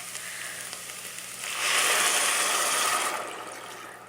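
Water poured into a hot pot of oil and minced garlic for shrimp bisque sets off a loud, steady hiss that swells sharply partway through, holds for about a second and a half, then eases back to a lower sizzle.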